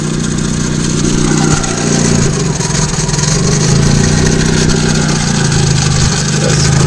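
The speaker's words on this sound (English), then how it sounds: "Seems to be idling fine." A Honda Civic engine idles steadily nearby after a limp-mode repair, a continuous low rumble that holds evenly throughout with no talk.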